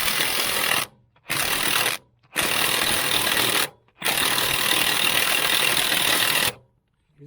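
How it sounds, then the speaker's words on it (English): An impact gun hammers at the front wheel nuts of a Ford 3000 tractor, loud close bursts of rattling impacts in four runs separated by short silences, the last run longest. "I've got the impact gun on, and hopefully it'll come off."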